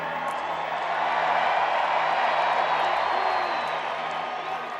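At the Dodgers victory parade, a large outdoor crowd cheers and claps in a dense, continuous roar with scattered whoops, loud and steady from start to finish.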